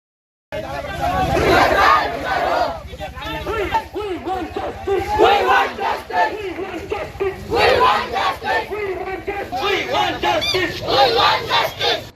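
Villagers on a protest march chant slogans together in loud, rhythmic crowd shouts that swell and fade in waves, with a steady babble of voices underneath throughout.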